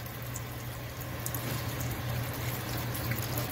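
Chicken broth pours steadily into a pot of stew meat and onions, giving a continuous close liquid splash and gurgle with no talking.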